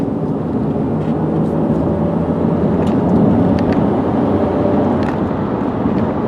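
Inside a 2007 Chevrolet Malibu Maxx with a 3.5-liter V6 cruising above 50 mph, a steady, subdued cabin rumble of road and engine noise with faint ticks, no talking.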